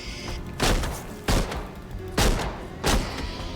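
Pistols fire in a video game, four heavy separate shots with short booming tails, spaced irregularly over a low background hum.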